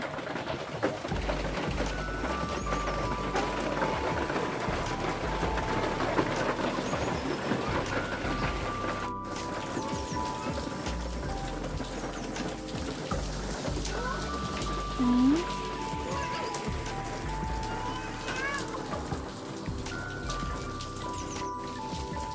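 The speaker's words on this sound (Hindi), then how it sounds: "बारिश हो रही है" Steady rain falls with a soft, continuous patter in a mountain village, and birds call faintly in the background throughout.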